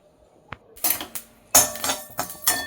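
Roasted burfi ingredients are tipped out onto a plate, giving a short run of clattering, rattling pours and clinks of utensil on dishware, close and fairly loud.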